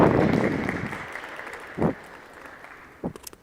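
An audience at a Covenant College student senate election debate claps as candidates are invited to the stage. The dense clapping fades out within the first second, leaving a quiet room with a few brief vocal sounds.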